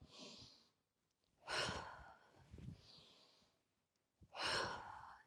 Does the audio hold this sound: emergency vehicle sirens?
no